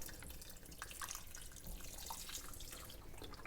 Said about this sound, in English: add in that little extra broth, because you want to have it covered completely